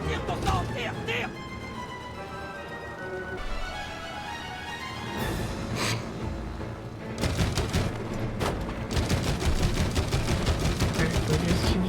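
Rapid gunfire from the co-op video game It Takes Two crackles in dense volleys mixed with in-game music and effects, while players talk over it throughout.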